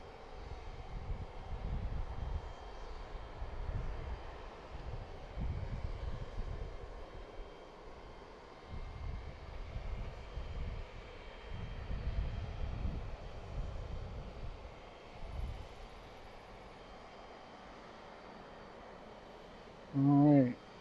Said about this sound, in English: it's pretty common to see those aircraft around here